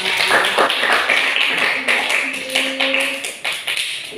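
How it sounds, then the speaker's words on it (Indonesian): A classroom of students clapping together for a group, a loud, close, rapid patter of many hands with a few voices briefly heard underneath. "kalau tidak ada beri tepuk tangan untuk kelompok 2"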